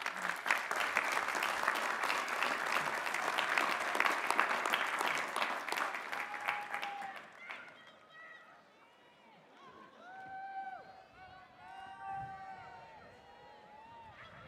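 Graduation-ceremony audience applauding Education Specialist and Master's degree recipients at a 2025 commencement: dense, loud applause for about seven seconds that fades out, followed by a speaking voice over scattered remaining claps.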